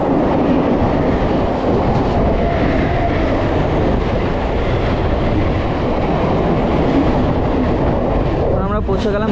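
A Mumbai local train runs steadily near Belapur, its loud continuous rumble and wheel clatter filling the whole stretch, with a brief squeal of wheels near the end.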